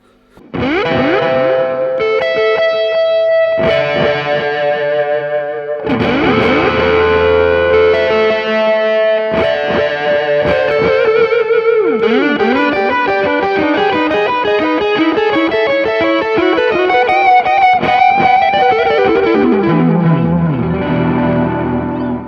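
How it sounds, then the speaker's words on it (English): Electric guitar played through a reverse delay pedal, notes swelling backward into washy, echoing layers that sustain continuously and loudly. "I think this is a reverse delay"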